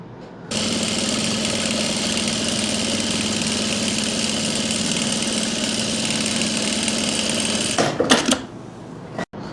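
One long, loud, steady run of a sewing machine stitching the belt of palazzo pants, continuous for about seven seconds, then stuttering with a few short stops and restarts near the end.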